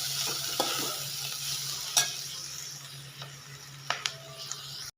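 Coconut flour dry-roasting in a pan, with a soft steady hiss and occasional scraping stir strokes, close and alone with no talk.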